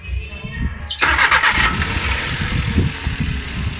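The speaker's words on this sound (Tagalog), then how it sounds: "Ayan, pinandar natin." A car engine cranks and catches after a water pump replacement on a vehicle with coolant overflowing and bubbling in the radiator, then settles into a steady idle close by, with a voice speaking over it.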